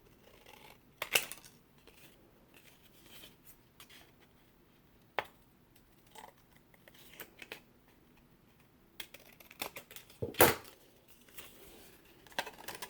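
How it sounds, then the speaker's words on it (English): Scissors trimming a paper gift bag, heard as scattered close crisp snips and paper rustles with a few louder cuts, in an otherwise quiet room with no talking. "Then we're going to trim this like this."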